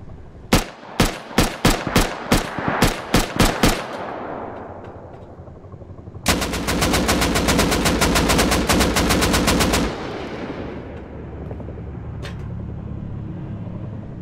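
Video-game gunfire in a PvP shooter: a string of sharp single shots, then after a short lull a long, loud continuous automatic burst lasting several seconds, followed by quieter background game noise.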